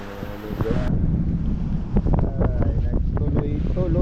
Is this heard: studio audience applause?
no